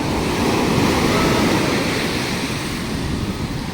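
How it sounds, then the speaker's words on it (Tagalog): Powerful surf on a Zambales beach makes a loud, dense, close-up roar that holds steady throughout, with no voices. "Lakas ng alon."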